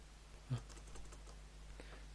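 Computer keyboard keys pressed during C# programming work, a short quiet cluster of clicky taps with one slightly louder stroke, faint and close, no voice.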